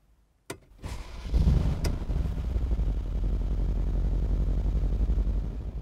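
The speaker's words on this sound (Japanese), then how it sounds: "それではエンジンを始動させていきます。" A 2016 Mercedes-Benz G550 engine is started, with a click, a brief cranking whir and a sharp catch, then it settles into a steady, deep, close idle.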